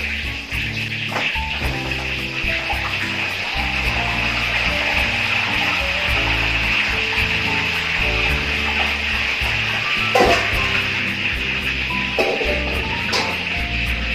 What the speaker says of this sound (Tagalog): kung narinig nyo yung piniprito ko mga kaibigan